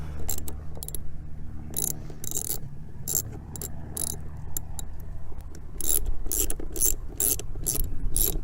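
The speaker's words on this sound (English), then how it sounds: "Just undo this Jubilee clip." A Jubilee hose clip on a Vauxhall Astra 1.7 CDTI is undone with a 7mm socket ratchet, giving close, bursts of rapid metallic clicking with short pauses between them.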